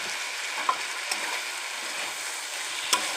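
Chickpeas, potato and chopped tomato for ghugni frying in a pan, a continuous soft hiss of sizzling oil with a few faint spoon clicks as the mixture is stirred, close and even.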